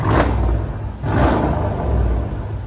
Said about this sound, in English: The turbo spooling up.